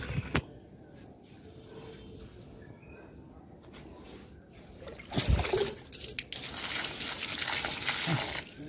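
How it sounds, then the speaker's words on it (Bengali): Water trickles and splashes out of a potted plant at a home garden, faint dribbling at first that turns into a louder steady gush of running water in the latter part. "ওই জল নষ্ট হচ্ছে, গাছ থেকে গিয়ে বাইরে যাচ্ছে বেশি।"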